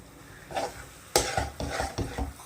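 Hot Karachi halwa being stirred in a pan, with a handful of close scraping strokes against the metal and a soft sizzle, no talking.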